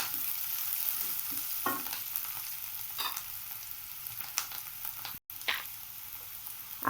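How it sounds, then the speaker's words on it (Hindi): Vegetables for veg rolls are stir-fried in a pan over high flame: a steady sizzle runs throughout, broken by scraping stir strokes and a short gap near the end. "हाई फ्लेम रखना है, हमें इसे हाई फ्लेम पर ही पकाना है और इसे चलाते रहिएगा"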